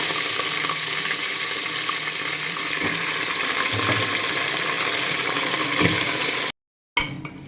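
Country chicken pieces washed with turmeric sizzle and fry steadily in a hot pan for a village-style curry, a continuous crackling hiss close by, broken by a brief cut near the end.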